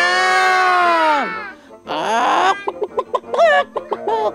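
A rooster gives a long, falling crow, followed by a short pause and then a run of quick, choppy chicken clucks, loud and close.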